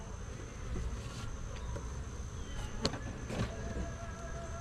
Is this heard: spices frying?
no